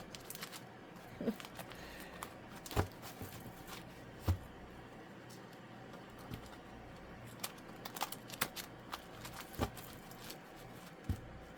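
Quiet card shuffling at a tabletop reading produces scattered soft snaps and taps at irregular intervals, faint and close, with no talking.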